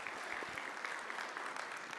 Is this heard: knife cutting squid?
no